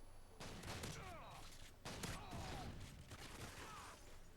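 Model 1887 lever-action shotguns fire in Modern Warfare 2, several sharp, booming blasts in quick succession amid gunfire from a multiplayer match, heard fairly faint with no talk.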